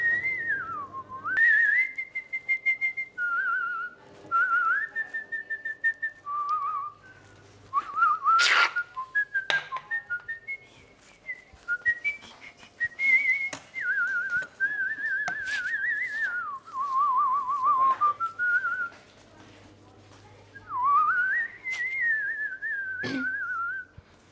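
A person whistles a wandering melody in bursts, clear high tones sliding up and down with short pauses between phrases, close and fairly loud.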